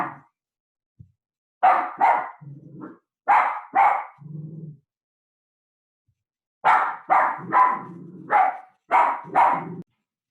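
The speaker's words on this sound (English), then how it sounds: "sorry about the dog." A dog barks close by in two clusters of sharp, repeated barks, several in quick succession, then a pause before a second, denser volley, with no talking around it.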